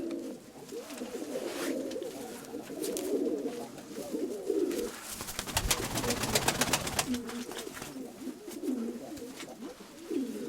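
Pigeons brought in for temporary keeping coo steadily and close by in overlapping, rolling calls, with a brief burst of wing flapping or scuffling partway through.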